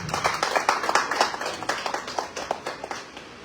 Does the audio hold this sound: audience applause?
yes